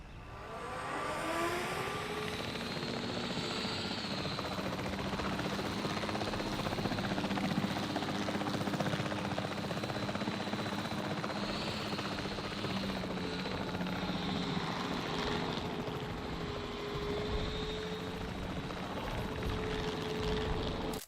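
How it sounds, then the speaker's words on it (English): A helicopter flies through a dinosaur park video game, its rotor whirring and engine droning in a continuous, fairly loud wash that stays steady throughout, with slight swells in pitch and intensity. "Unless you like helicopters"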